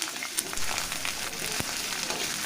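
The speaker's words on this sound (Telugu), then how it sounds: "ఈ బ్లడ్ ముక్కలు వేసుకున్న తర్వాత బాగా ఫ్రై చేసుకొని" Pieces of blood frying in oil with onion, green chilli, curry leaves and ginger-garlic paste give a steady close sizzle with faint stirring clicks, and no one talks.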